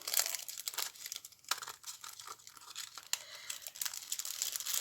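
Small crinkly envelopes from an AliExpress order being handled and opened, giving a close, continuous crackle of crumpling and tearing paper or plastic with no talk.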